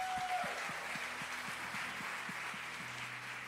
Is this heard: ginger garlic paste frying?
no